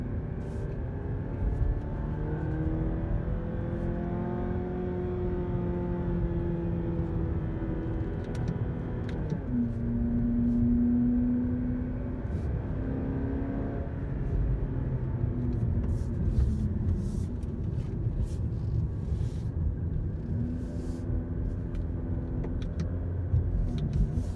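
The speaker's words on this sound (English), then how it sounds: "let's see how this car does on a little bit of a twisty road." A 2017 Fiat 500X engine hums and drones steadily from inside the cabin on a twisty road, revving up and down through gear changes as it drives on.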